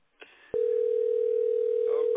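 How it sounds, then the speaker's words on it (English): A telephone call connects with a sharp click into a steady, single-pitched electronic tone that holds continuously and loud after a faint, brief murmur at the start. "It's ringing anyway."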